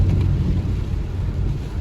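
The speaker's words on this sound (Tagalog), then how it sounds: "lumalakas na naman yung ulan" Heavy rain lashes down during a typhoon, a dense, steady roar of downpour with wind buffeting close to the microphone, loud and continuous.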